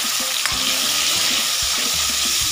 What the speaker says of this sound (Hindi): अब हम तलेंगे पनीर।